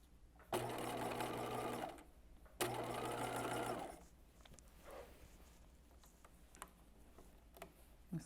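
A sewing machine stitches a skirt in two quick bursts of a second or so each, close and clear, followed by faint scattered ticks and handling clicks in a quiet room.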